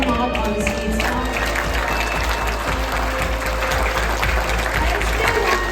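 Audience applause at the EI Asset Awards 2025 evening in Dubai, a dense, steady clapping from a crowd, with a voice over it.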